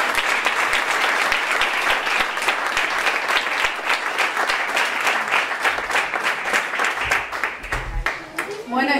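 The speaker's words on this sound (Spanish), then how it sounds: "pido para todo ello un fuerte aplauso muy grande" Warm applause from the crowd at a local party congress in Algarrobo, dense rhythmic clapping from many people sustained for nearly nine seconds, with scattered voices underneath and a thinning toward the end.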